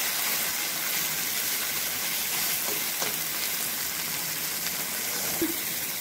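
Pieces of taro fry in a darkened wok with a constant dense sizzle and crackle and a few soft stirring clinks.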